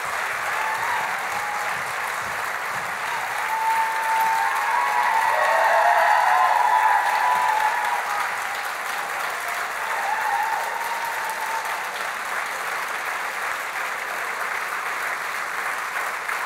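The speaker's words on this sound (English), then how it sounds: "Thank you for that round of applause." A large audience at a business success day event applauds loudly and steadily, the clapping swelling to a peak midway before easing slightly, with occasional whoops and cheers rising above the wash of hands.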